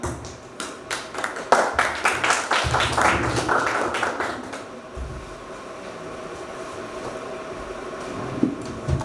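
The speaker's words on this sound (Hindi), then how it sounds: "एक बार फिर से तालियां" A burst of clapping from a crowd at a school quiz competition, loud at first, then thinning out into a lingering hum of the room.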